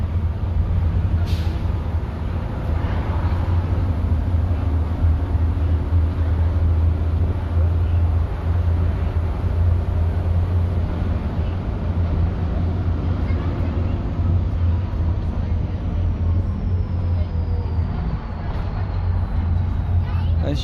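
Dennis Trident bus with a Euro 2 engine, ex-Stagecoach, idling or running steadily with a deep low rumble and constant drone, loud and close with no pauses throughout.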